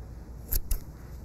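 Two quick, soft snips of scissors cutting through yarn loops on a pom-pom, close and fairly quiet, with no talking.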